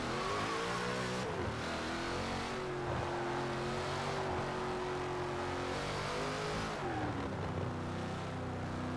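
A car engine in the Forza Horizon 4 racing game revs steadily and loudly, with the pitch rising and falling through gear changes and a constant droning roar throughout.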